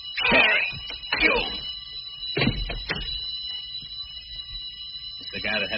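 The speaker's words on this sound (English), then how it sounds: "He's turning in an alarm" An alarm bell rings in an old radio crime drama, a steady high metallic ringing running continuously beneath urgent dialogue between men, with a brief loud thump in the middle.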